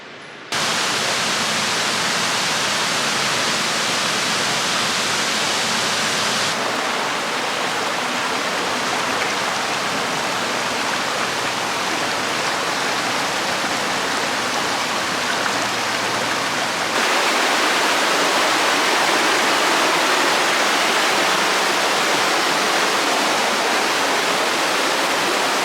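A waterfall on the Appalachian Trail roars in a loud, constant hiss of rushing water, close and unbroken, with no talking.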